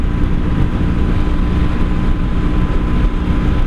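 A 1984 Honda V65 Sabre VF1100S motorcycle engine runs steadily after a downshift to fifth gear on back roads, a loud, continuous low drone with wind rush and no speech.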